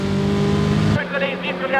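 TVR Tuscan race cars roar past in a loud burst of engine noise that cuts off abruptly, followed by a commentator talking.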